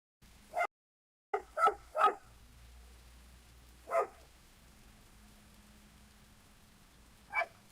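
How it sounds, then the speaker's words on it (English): Synthetic dog barking in the rain: about five separate barks spaced across a few seconds over a steady low patter of rain, with a brief dropout near the start. "Dog barking in the rain."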